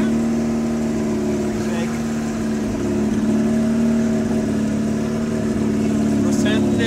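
Car engine idling and revving at a late-night event, a loud steady drone close by with slight rises in pitch, voices talking over it.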